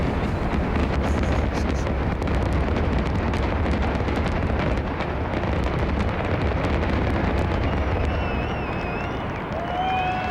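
Fireworks over the Eiffel Tower in Paris at a midnight celebration crackle and boom in a dense, continuous barrage, heard distantly through wind-buffeted crowd noise with faint whistles near the end.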